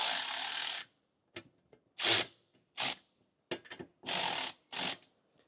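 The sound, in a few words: ratchet tightening bolts on Suzuki Jimny platform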